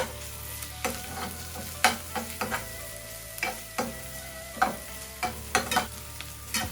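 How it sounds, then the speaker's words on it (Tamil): Ginger garlic paste sautéing with softened onions in a pan, a steady sizzle punctuated by regular sharp spatula scrapes and taps, close and unaccompanied by talk. "இப்போ நான் இதோட பிடிச்சு வச்சிருக்கிற இந்த இஞ்சி உள்ளியையும் போட்டு நல்லா வதங்க விட போறேன்"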